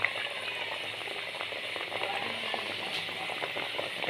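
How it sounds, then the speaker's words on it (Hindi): Sweet bread frying in ghee in a kadai, a steady dense bubbling hiss with faint crackles, even and continuous throughout at moderate distance. "कढ़ाई में मैंने पहले ऑलरेडी घी डाल दिया था, ये घी में बना रहा हूँ अभी"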